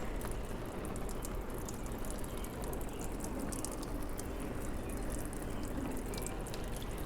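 Simulated rain water runs and trickles steadily off an Enviroscape landscape model toward its streams, a faint, continuous splashing patter with no voices.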